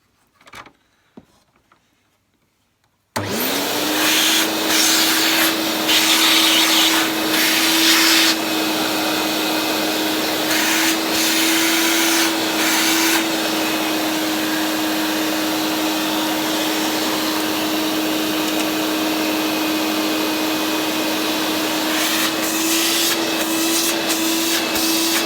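A Hoover Portable Model 2106 vacuum cleaner, refurbished, starts up after a few faint knocks. It then runs loud and steady with a constant motor whine and rushing airflow for more than twenty seconds.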